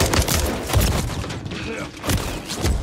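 Gunfire from a firefight in Call of Duty Modern Warfare III comes as dense, overlapping bursts of shots with mechanical clatter. It stays loud and busy across the whole stretch, and a voice speaks briefly among the shots.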